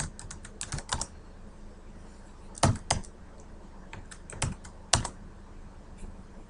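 Commands are typed on a computer keyboard for AutoCAD in short bursts of close, crisp key clicks separated by pauses, with a few louder keystrokes standing out.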